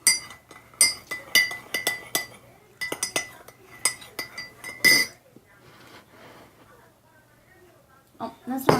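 Christmas pudding mixture stirred in a bowl with a spoon: a quick run of bright clinks and taps against the bowl, a quieter pause, then a few more clinks, with a voice talking alongside.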